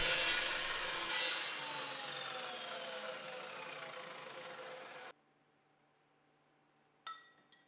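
An Evolution metal dry cut saw whines loudly and steadily as it cuts through metal, then stops abruptly into near silence, followed by a brief metallic clink.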